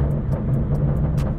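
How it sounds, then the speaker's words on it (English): BMW M2 with its N55 engine and a Bootmod3 stage 2 tune idling with a low exhaust rumble, punctuated by a rapid series of sharp crackling pops from the burble tune, heard up close. "Burbles sound about the same as stage one"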